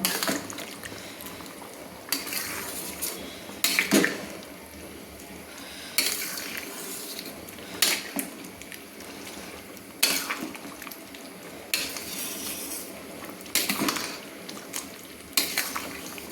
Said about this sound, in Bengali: দিয়ে আরেকবার ভালো করে কিন্তু আমি নেড়ে নিলাম